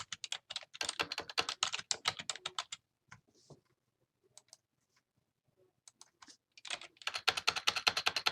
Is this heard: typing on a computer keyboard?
yes